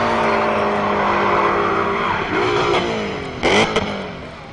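Drift cars at the British Drift Championships, Three Sisters circuit, screech through a battle with loud, sustained tire squeal over roaring, revving engines, rising in pitch as they sweep past close by.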